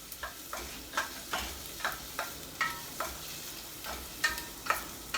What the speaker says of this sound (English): we're just gonna gently mix this around until it's transparent and very aromatic